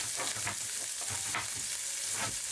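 Celery sizzles and crackles steadily in a hot deep pan on medium-high heat, with a few soft stirring scrapes, close up and without talking.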